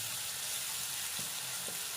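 Crushed onion and chili frying in hot coconut oil, a steady close hiss and sizzle with faint stirring scrapes.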